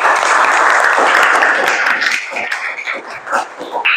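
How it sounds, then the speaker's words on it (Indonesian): Classroom audience applauding after group discussions, a loud burst of clapping that thins into scattered, uneven claps toward the end. "Tepuk tangan untuk kita semuanya."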